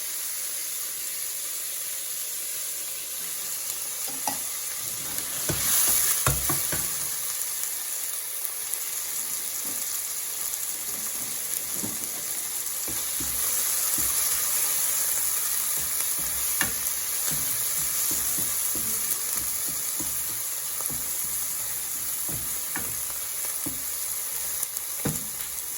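Tomatoes and onion fry together in a pan, a continuous close sizzle and steamy hiss with occasional stirring knocks and scrapes, swelling louder for a few moments.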